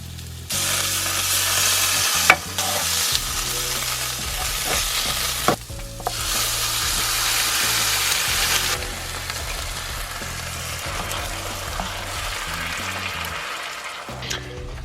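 Steady sizzling from a frying pan, with a spoon scraping and stirring through thick curry sauce for a halloumi and mango chutney curry; a couple of sharp clanks against the pan.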